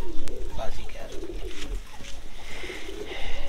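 Pigeons kept for kabootar bazi in Pakistan coo softly and repeatedly close by, low rounded calls set against a background murmur, with people talking nearby.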